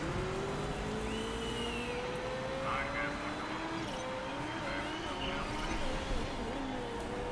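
Race cars rolling slowly out of the pits in the Motorsport Manager PC game, a steady engine drone with rising and shifting tones, continuous and moderately loud.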